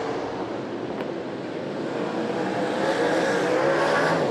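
Super sedan race cars roar around the dirt oval at Archerfield Speedway at night, a dense, sustained engine din that swells slightly with tyre noise as cars pass, with no clear speech on top.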